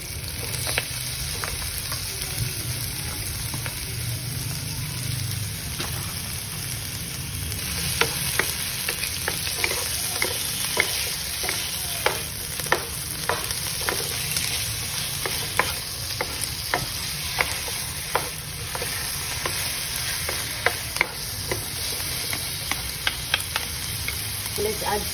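Pork sautéing in a pan for ginisang carrots and sayote, a steady close sizzle and hiss broken by frequent scraping and clacking stirs, with light talk now and then.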